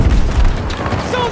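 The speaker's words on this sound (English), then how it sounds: "Grenade out!" A grenade goes off in the video game Battlefield 2042: a loud, close, rumbling boom that quickly rolls into battle noise as soldiers' voices shout over it.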